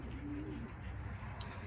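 Racing pigeons coo softly inside a loft, a low throaty warble rising over steady background noise, faint and indistinct, with no talking.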